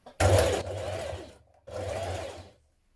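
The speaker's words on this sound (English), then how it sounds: "Hand sew or stitch in the ditch at the centre back here to bring both your collars together." A sewing machine stitching the collar of a knit dress, Butterick 6858: two close, loud bursts of motor whir, the first brief and sharp, the second longer and steady, separated by a short silence.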